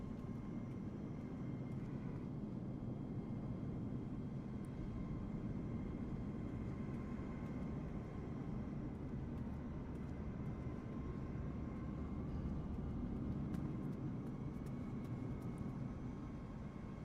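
Steady jet engine roar from a Boeing 737 airliner in Microsoft Flight Simulator 2024, a continuous broad drone with a faint high whine, even in level and unbroken throughout, with no talk.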